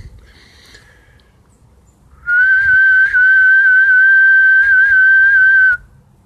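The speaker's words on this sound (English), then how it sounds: "here goes a whistle." A person whistles one long, steady, loud note lasting several seconds, close by, after a quieter stretch of faint background noise.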